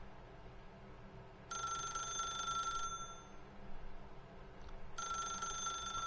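A telephone rings in The Stanley Parable, two bursts of bright electronic ringing separated by a short pause over a faint room hum.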